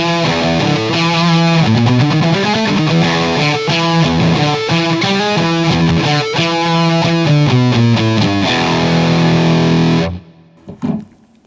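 A heavily distorted electric guitar, a GyRock, plays a chugging, rhythmic riff at full volume, then cuts off abruptly, leaving a brief buzz and a few stray noises.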